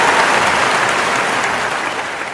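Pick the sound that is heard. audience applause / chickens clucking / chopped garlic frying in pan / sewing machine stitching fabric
audience applause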